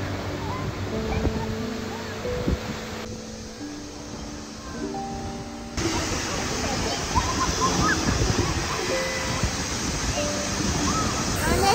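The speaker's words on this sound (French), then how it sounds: "Ce n'est vraiment qu'en s'approchant que l'on peut comprendre la force d'une telle masse d'eau." Waterfall in the Cirque du Fer à Cheval roars as a steady, dense rush of falling water close by, with voices speaking over it and a louder surge partway through.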